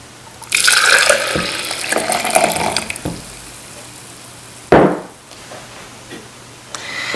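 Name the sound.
brewed coffee poured into a NutriBullet cup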